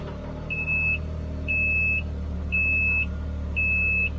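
Ford Maverick door-open warning chime sounding while the running truck is in gear: four evenly spaced, sustained electronic beeps about a second apart over a low engine idle hum.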